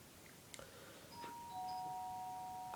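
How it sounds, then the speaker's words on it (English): A doorbell rings in a quiet home, a short chime followed by long sustained electronic tones that ring on alone without any talking. "so that's the doorbell"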